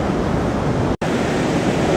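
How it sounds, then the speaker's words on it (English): High surf rolling onto Rio Del Mar beach at low tide in winter after heavy storms, a loud, steady wash of broadband roar with wind buffeting the microphone, broken by one brief dropout. "High surf, low tide always produces a interesting waterscape here, Rio Del Mar."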